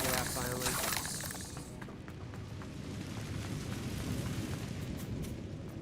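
A Confringo blasting spell from Hogwarts Legacy erupts with a loud, broad explosive burst that crackles for about a second and then fades into a low, rumbling, noisy tail.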